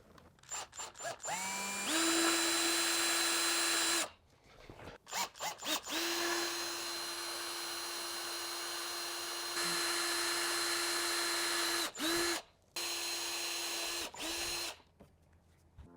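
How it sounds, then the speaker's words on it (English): A cordless drill running on low speed with the kit's supplied bit bores mounting holes for a Bulletpoint release mounting system: several long, steady whirring runs, broken by short pauses and quick stop-start bursts, close and clear with no talking. "I'm using the drill bit they provided with the kit, and I have the speed on low for the drill"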